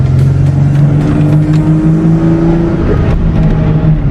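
A Ford Mustang's 3.8-litre V6 engine drones steadily, heard loud and close from inside the car, its pitch rising slightly as it revs before settling.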